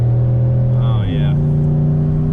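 A Ford F-150 pickup truck engine revs up and accelerates hard, its loud steady drone climbing in pitch, close by.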